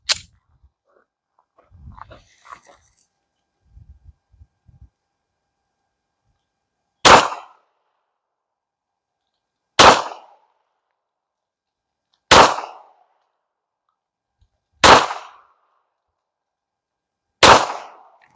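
Five pistol shots of Hornady Critical Defense ammunition fired at 10 yards, sharp loud cracks spaced about two and a half seconds apart, following a few faint handling noises.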